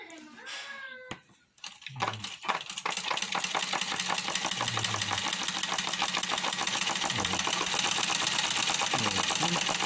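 A manual sewing machine stitches embroidery, running in a fast, steady mechanical rattle that picks up after a few brief knocks and continues loud and close to the end.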